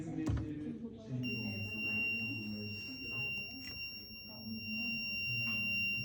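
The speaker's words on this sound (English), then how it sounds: "trigger the buzzer and blinking LED" A steady, high-pitched electronic buzzer tone from a digital logic circuit sounds continuously after a brief moment, triggered by an incorrect entry, over a low background murmur and room noise.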